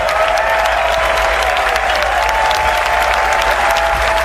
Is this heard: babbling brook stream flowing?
no